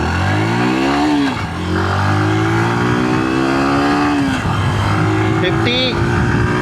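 A Hero Glamour X 125 motorcycle accelerates hard in a speed test, its engine note climbing through several gear changes with rising pitch sweeps, loud and close, while someone talks over it.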